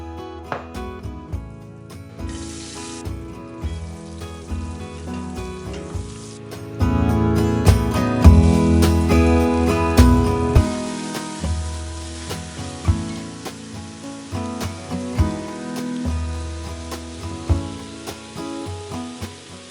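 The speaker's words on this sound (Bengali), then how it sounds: "চালটা মোটামুটি ভাজা ভাজা হয়ে এসেছে।" Rice and nuts fry in hot oil in a cooking pot, giving a steady, moderate sizzle that swells partway through and carries on under faint background music.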